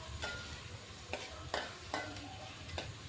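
Green chillies, tomatoes and curry leaves sautéing in oil, a soft, quiet sizzle broken by a few spaced stirring scrapes, close by with no talking.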